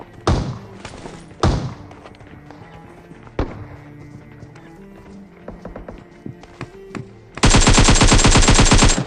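AKM rifle fire in PUBG Mobile: scattered single shots and thuds early on, then a loud, rapid automatic burst of about a dozen rounds near the end.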